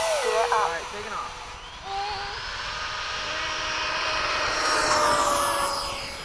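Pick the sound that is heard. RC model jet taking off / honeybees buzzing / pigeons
RC model jet taking off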